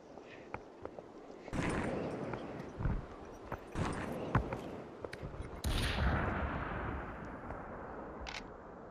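Scattered gunshots in the VR battle royale game Population One, several sharp cracks of varying distance spread across the clip, with rustling movement between them.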